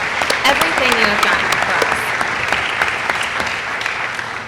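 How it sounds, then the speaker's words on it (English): An audience at a legislative update meeting on a compressor station applauds a senator and a state representative, with dense, steady clapping throughout and voices faintly audible beneath. "let's give Senator O'Connor and Representative Becky Haas such a round of applause"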